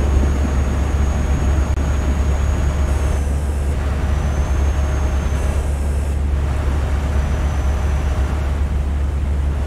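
MAN truck from 2020 in Euro Truck Simulator 2, its engine droning with a deep steady rumble as it accelerates, a loud continuous hum with faint shifting tones above.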